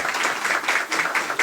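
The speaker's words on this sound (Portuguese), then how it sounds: "Uma salva de palmas para ele." A church lecture audience claps for a minister, a dense, steady patter of many hands with slight surges, fairly close and without voices over it.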